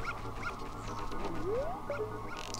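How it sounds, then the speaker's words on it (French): In-game dog from Zelda: Majora's Mask gives a short rising whimper over steady game music and ambient tones, moderately loud and heard without talk. "Le chien en fait m'indique où ils arrivent."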